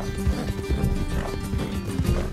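A horse in the video game Red Dead Redemption 2 gives steady clip-clop hoofbeats with an occasional snort or whinny, close and continuous, over game ambience.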